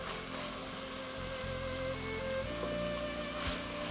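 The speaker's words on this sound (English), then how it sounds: "it's almost like stir frying the mushrooms in this thick tomato and onion paste" Mushrooms stir-frying in a thick tomato and onion paste for a paneer and mushroom Madras, giving a steady, close sizzle and crackle with constant hiss throughout, with faint background music under it.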